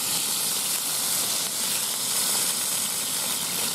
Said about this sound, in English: Leave that sizzle.